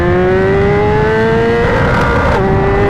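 A BMW S1000RR superbike revs hard in first gear, its engine note climbing steadily as a loud, close, continuous scream with a brief dip and recovery near the end.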